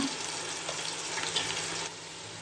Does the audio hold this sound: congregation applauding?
no